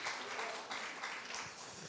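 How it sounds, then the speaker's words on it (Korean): An audience claps together at a church thanksgiving service, a faint, steady patter of applause that carries on without a break. "박수."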